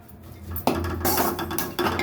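Drumstick leaves tossed into a hot pan with garlic, giving a clattering of utensil against metal and a soft background sizzle, with a louder clank partway through and no voices.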